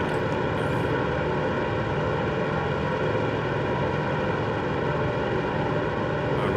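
Grumman Albatross aircraft engine in MSFS 2024 running at a steady, even drone with a constant propeller hum, already up to speed and unchanging throughout.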